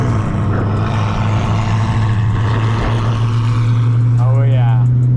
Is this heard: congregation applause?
no